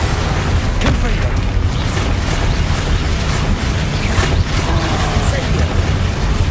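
A Confringo explosion spell in Hogwarts Legacy: loud booming blasts and crackling bursts repeat over a dense, continuous roar of game noise, with a voice shouting over the action.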